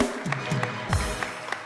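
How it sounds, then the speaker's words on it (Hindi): A talk show studio audience gives brief, fairly light applause, with a few separate claps standing out over a low background murmur. "भाई सारे तालियां बजाओ"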